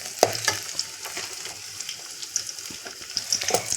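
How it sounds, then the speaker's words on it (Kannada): Ingredients for an egg curry fry in hot oil, giving a continuous close sizzle broken by frequent sharp clicks and scrapes of a spatula stirring the pan. "ಚೆನ್ನಾಗಿದ್ದು ಬ್ರೌನ್ ಕಲರ್ವರೆಗೂ ಫ್ರೈ ಮಾಡ್ಕೊಳ್ಳೋಣ"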